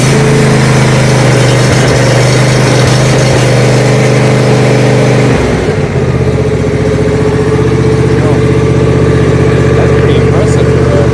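A C335 residential zero-turn mower engine, fitted with ag tires, fires up and settles into a loud, steady idle close by, with a brief dip in pitch partway through before running on evenly.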